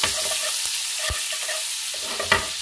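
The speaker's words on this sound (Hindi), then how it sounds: "बस इसका थोड़ा सा हमें इसको सौते करना है जिससे इसका कच्चापन चला जाए।" Five to seven cloves of crushed garlic sautéing in a pan for white sauce pasta, a steady close sizzle broken by a few soft stirring knocks and scrapes, with no voices.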